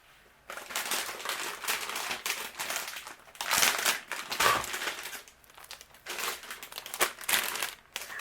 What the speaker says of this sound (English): I'm going to flip it around and I'm going to add some foam tape behind here.